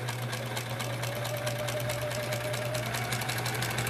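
Sewing machine stitching half square triangle quilt pieces, a steady fast mechanical whirring hum with rapid needle ticking running continuously, close and alone without talking.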